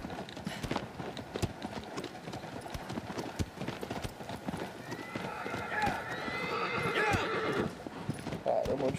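Horse in Shadow of the Colossus on PS4 gallops in steady clip-clop hoofbeats with occasional whinnies, layered with other game sounds and a brighter swelling noise near the end.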